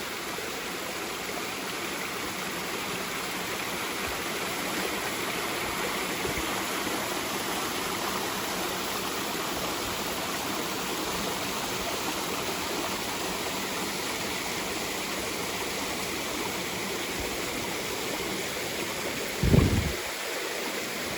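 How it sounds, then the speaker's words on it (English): Stream swollen by heavy rainfall and snow melt, rushing water flowing steadily and fairly loud throughout, with one brief knock near the end. "Quite a bit of water right now because we got a pretty hefty rainfall"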